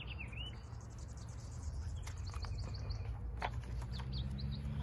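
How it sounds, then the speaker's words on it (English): Steady cricket trilling fills the background while sparrows chirp intermittently, fairly faint and continuous throughout. "sparrows chirp and crickets trill"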